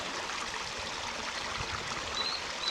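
Water flows in a stream, a steady moderate rushing and trickling wash at close range, with a faint brief chirp near the end and no voices.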